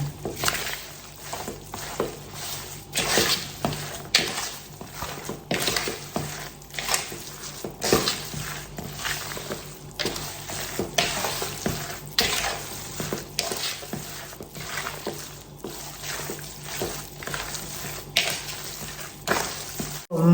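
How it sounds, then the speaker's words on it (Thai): Seasoned pork sausage filling being mixed by hand or spoon in a bowl, steady wet squishing and stirring strokes repeating close up with no talking. "เราก็จะคลุกเขา ส่วนผสมของหมูนะคะ ให้เข้ากัน"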